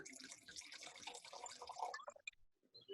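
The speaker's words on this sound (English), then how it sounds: "Let me pour some myself too." Wine pours into a glass in a soft liquid trickle that runs for about two seconds, then tapers off into a few faint drips and clinks; no talk.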